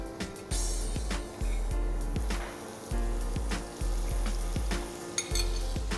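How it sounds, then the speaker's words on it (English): Four prawns sizzle and fry in olive oil on a hot griddle plate, a steady loud crackle broken by repeated low clanks and scrapes of utensils against the metal, with no talking. "Grill it on a griddle plate like this."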